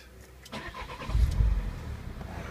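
A 2011 Peugeot RCZ starting: a brief starter crank followed by the engine catching with a deep low rumble that swells, then settles into a steady idle, heard close and alone.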